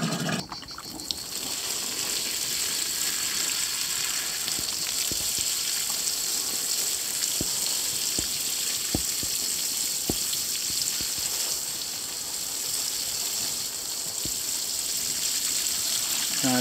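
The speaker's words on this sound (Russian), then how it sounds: "Надо срочно полить смородину." Water running steadily from a hose or can onto currant bushes in a garden, a continuous hiss and trickle with scattered sharp drips, close and moderately quiet throughout.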